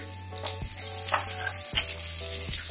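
Steady frying sizzle of chopped garlic in hot butter and olive oil, close and continuous, with a few soft clinks of a utensil stirring the pan while sautéing a pasta arrabbiata sauce.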